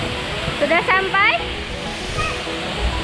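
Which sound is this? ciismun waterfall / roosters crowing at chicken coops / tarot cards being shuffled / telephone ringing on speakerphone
ciismun waterfall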